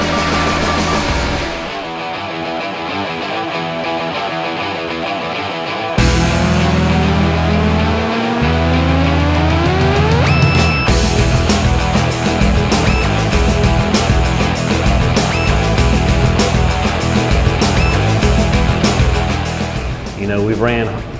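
NASCAR engines with Holley fuel injection running on a dyno, with a loud sustained roar whose pitch sweeps upward as revs climb, then holds at a high, steady, dense tone.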